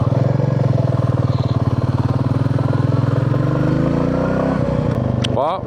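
A motorcycle rumbles steadily through town early on a Sunday morning, its loud engine pulsing close by the whole time, ending with a brief clatter at the close.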